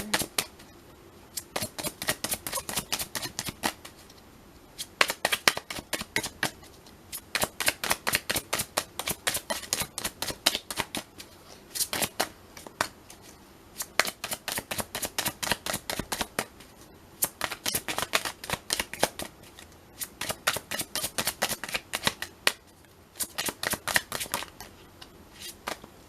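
A deck of tarot cards shuffled over and over in repeated riffling bursts with short pauses between them, crisp and close, with no talking.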